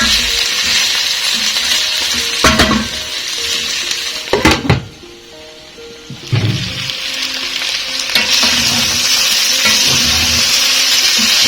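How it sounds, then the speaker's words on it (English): Kheema with potatoes and peas fries loudly in a sufuria, a steady sizzle broken by several scraping stirs of the spoon against the pot and a brief quieter lull. "I will keep mixing so that my potatoes don't start holding to the sufuria"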